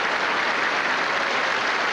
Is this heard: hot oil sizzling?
no